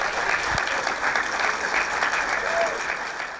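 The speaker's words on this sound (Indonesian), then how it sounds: "Tepuk tangan dulu dong, tepuk tangan." Studio audience applause on an Indonesian talk show, a steady dense wash of clapping held at even loudness for several seconds before easing slightly at the end.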